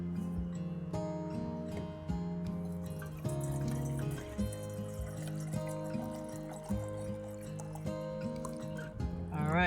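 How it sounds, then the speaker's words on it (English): Water pours into a finjan coffee pot, a faint trickling fill set against steady background music with a few soft clinks. "step number 1 would be filling up water in the finjan"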